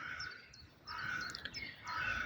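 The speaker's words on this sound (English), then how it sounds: "The crows are cawing" Crows caw outdoors in a few hoarse, drawn-out calls. They are fairly faint and distant over a soft background hiss.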